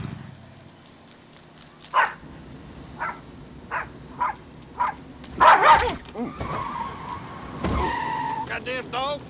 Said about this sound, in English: Goddamn dog!